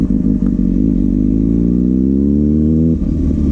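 A Kawasaki Ninja ZX-6R motorcycle riding a wheelie, its engine holding a loud, steady drone that climbs slowly in pitch, then drops briefly as the throttle eases near the end, close and continuous with no talking.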